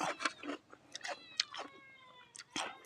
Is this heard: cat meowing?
yes